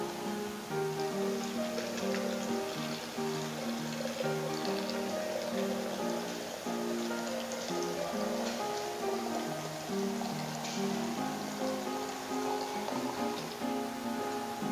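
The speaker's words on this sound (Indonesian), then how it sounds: "kemudian kita tuangkan, ya, air biasa, air keran" Plain tap water pours steadily into a pot in a cooking class, a continuous rushing splash that holds at an even level throughout with music or room sound underneath.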